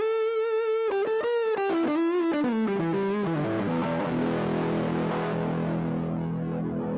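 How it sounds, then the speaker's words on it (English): Electric guitar played through a compressor pedal and an OCD overdrive, a sustained distorted line stepping down in pitch before settling into a loud ringing chord that fills the rest, alone and up close. "right now I've got a compressor pedal and an OCD running."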